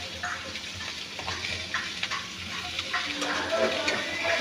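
Chow mein sizzles in a hot pan while being stirred, a steady close frying crackle punctuated by scraping and tossing clicks from a utensil, with no talking.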